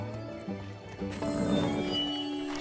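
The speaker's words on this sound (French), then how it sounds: "il y a un cheval qu'on dresse" A horse being trained at a market in the video game Bless Unleashed neighs and clip-clops amid a lively background din, moderately close and without clear talk.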